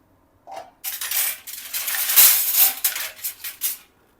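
Metal utensil clinks and scrapes in an appe pan while jowar flour dumplings are flipped, a run of close, bright taps and rattles in an uneven rhythm, no talking.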